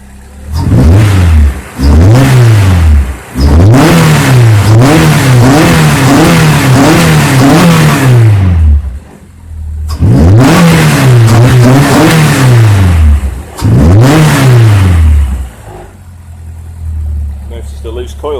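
Honda S2000 F20C engine after an injector cleaning, loud and close, revved up and down in a series of rising and falling sweeps with short idle dips between them, while people talk nearby.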